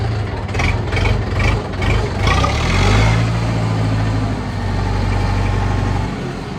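A Fighter T-404RD mini tractor engine idles with a low diesel throb, then revs up as the tractor pulls away. It settles into a steady, loud drone close by.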